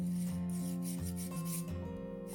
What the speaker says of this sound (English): So I'm just going to file my side walls, just using the Miley files.